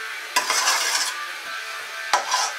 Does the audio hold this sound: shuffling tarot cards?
no